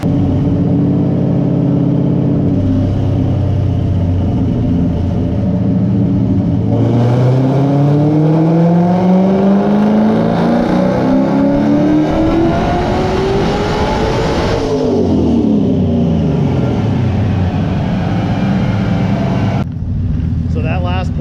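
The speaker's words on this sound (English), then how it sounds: "now that last pull, you can hear the turbo spooling" A turbocharged 1993 Ford Mustang Cobra with a swapped Coyote V8 pulls hard through the gears, the engine note sweeping upward in loud, close runs with a rising turbo whine, dipping at a shift before climbing again.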